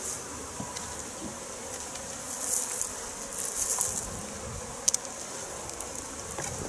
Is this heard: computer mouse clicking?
no